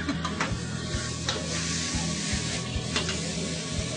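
Chicken with cashew nuts stir-fried over a high flame, with a loud, constant sizzle and rhythmic tossing and scraping in the pan, close up and without talk.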